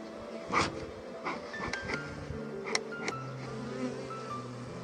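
Bees swarm at an apiary in Volyn region, giving a soft, steady buzzing hum with a few louder passes close by and no talk.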